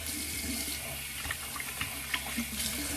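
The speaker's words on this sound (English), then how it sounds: "I'll rinse off with some cool water and then I'll call it a day" Cool tap water running from a faucet during a rinse after a beard cleanup, a steady close splashing stream with a few brief drips and splashes, no voices.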